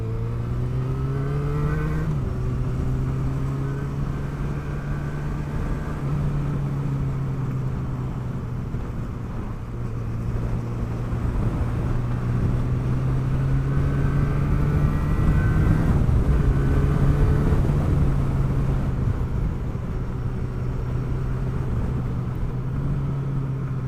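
A Yamaha XJ6 motorcycle on a ride, its engine droning steadily and loud with wind rush, pitch rising and falling through gear changes as it cruises along.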